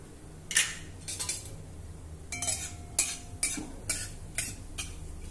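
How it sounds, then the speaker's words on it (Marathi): Cumin, mustard and fenugreek seeds crackle in about a tablespoon of hot oil for a raw mango curry, a string of sharp, bright popping bursts spaced about half a second apart over a quiet background. "जिरं, मोहरी, मेथी दाणे छान तडतडले।"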